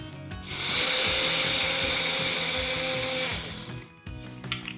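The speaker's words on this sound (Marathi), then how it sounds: "हे भाजलेलं डाळवं मिक्सरमध्ये आपण याचे पूड करून घेऊयात।" Electric mixer grinder whirs loudly and steadily, pulverising roasted chana dal into powder, running about three seconds before spinning down, followed by a faint clatter.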